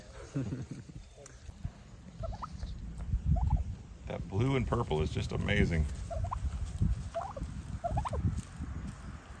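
Farm turkeys gobble in bursts, their rapid warbling calls rising over background noise while a person speaks nearby.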